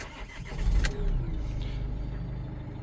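Nissan NV van engine starting, a brief starter crank followed by the engine catching and settling into a quiet, steady idle, heard from close by with no talk.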